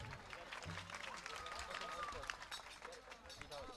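A crowd at a Khodiyar temple gathering in Bhorasar claps steadily and densely, the applause continuing under a voice over a loudspeaker.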